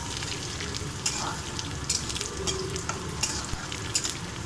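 Onions frying in a pan for sabudana khichdi, a steady close sizzle broken by periodic scraping stir strokes about once a second, with no talk over it.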